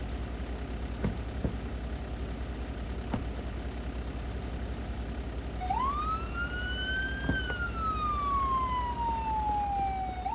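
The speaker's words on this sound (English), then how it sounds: "So whenever you hear those sirens" A wailing emergency siren rises then slowly falls in a long sweep, clear and fairly close over a steady low background hum, starting partway through.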